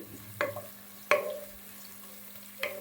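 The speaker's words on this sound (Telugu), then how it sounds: "ఆనియన్స్ ఇవన్నీ వేసి రోస్ట్ అయ్యే వరకు మంచిగా కలపాలి" Sliced onions and chilies roast in a pan for sambar, with three sharp utensil scrapes and stirs against the pan over a quiet low sizzle and a steady background hum.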